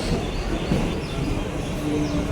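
Mumbai local train arriving at a station, a broad rumbling roar of the carriages rolling in, steady and fairly loud throughout.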